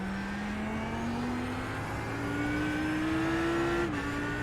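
Audi R8 LMS GT3 race car in iRacing at Virginia, its engine droning steadily under load, pitch climbing as it accelerates, then a quick dip at a gear change before pulling again, with no voices.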